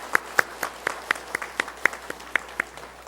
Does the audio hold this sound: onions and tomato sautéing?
no